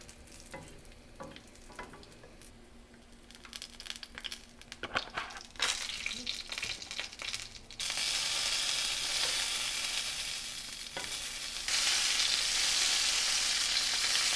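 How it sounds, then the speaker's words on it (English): Shrimp and chive dumplings pan frying fold side down on a stove, a steady close sizzle that starts quiet with a few stirring knocks, then swells loud and even, with one more surge near the end. "let's get over to the stove to pan fry these"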